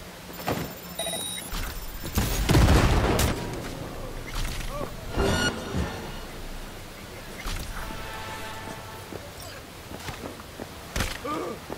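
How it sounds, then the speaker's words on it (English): Gunfire from enemies in the video game Cyberpunk 2077, a run of sharp bursts and cracks amid game effects and background noise, loudest near the start with scattered later shots, while a voice speaks briefly. "They're shooting at me!"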